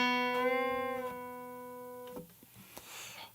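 A single electric guitar note, picked and then bent and released back down to its normal pitch, rings softly before being cut off, followed by faint handling noises.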